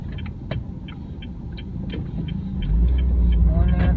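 A 2019 Honda City 1.5E CVT sedan pulls away, its engine rumble swelling steadily louder toward the end, with ticking earlier and a voice speaking over it.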